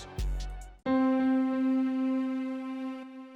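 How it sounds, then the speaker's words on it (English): A piano one-shot layered with a thin, high string tone, a sustained chord ringing out from about a second in and fading near the end, set in a glo-style beat, following a brief percussive lead-in. "So it's a piano, but you can tell there's kind of like a little bit of high end, almost like a string in there that's layered with the piano."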